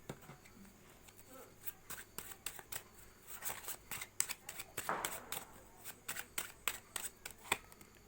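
Tarot cards are shuffled and drawn close by, making soft rapid flicks and snaps over several seconds, with faint speech in the background.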